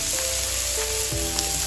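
Bacon, sausage and deer patties sizzle on a black stone griddle, a steady close crackle and hiss with a faint electrical hum underneath.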